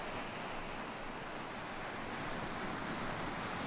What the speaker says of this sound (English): But here is this beach